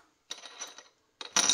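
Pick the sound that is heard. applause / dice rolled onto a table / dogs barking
dice rolled onto a table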